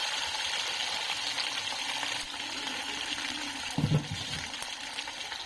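A tomato and ginger paste sizzles in hot oil in a home kitchen, a soft, steady crackling hiss held throughout, with a brief clatter of a utensil near the end.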